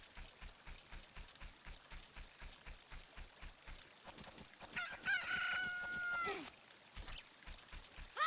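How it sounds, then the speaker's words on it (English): Chickens in The Legend of Zelda: Ocarina of Time, with repeated crowing and clucking calls over a steady rhythmic game soundtrack, a louder squawking burst in the middle. "Chicken."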